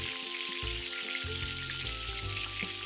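Ground coriander, chili powder and turmeric fry in a pan as filling for vegetarian singara, giving a steady, close sizzle that continues throughout with no talking.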